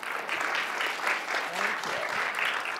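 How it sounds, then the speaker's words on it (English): Audience applause welcoming a speaker at a tech product presentation, a steady wash of clapping hands, loud and continuous, with a faint voice beneath. "Please welcome Kristina with a big applause"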